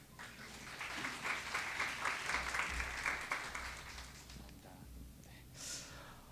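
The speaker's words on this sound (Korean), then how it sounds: "우리 박수로 환영하겠습니다" A church congregation claps to welcome a pastor to the front, a moderate burst of many hands that fades after about four seconds, followed by quiet room tone and a brief breathy sound.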